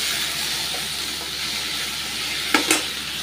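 Finely chopped brinjal sautéing in a pan for kathirikai gothsu makes a steady hissing sizzle, close by, with two brief scraping clicks of stirring near the end.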